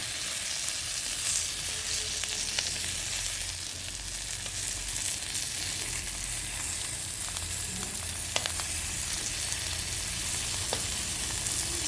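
Dried fish (buwad) and eggs frying in a pan, a steady dense sizzle and crackle that runs unbroken for several seconds, with occasional sharper pops.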